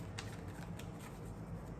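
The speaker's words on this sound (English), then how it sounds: "let's go ahead and shuffle the cards a little bit" Tarot cards being shuffled by hand, a faint, steady papery riffling with a few soft slaps, quiet and close with no talking.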